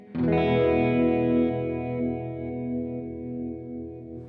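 Guitar played through an OBNE Expression Ramper pedal with its dial at zero, a single sustained chord ringing out thick and chorused with slight grit, fading slowly over several seconds, close and alone.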